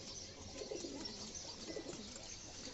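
Soft cooing from Pallar pigeons murmurs steadily in the background, low and continuous with faint overlapping calls, no one speaking.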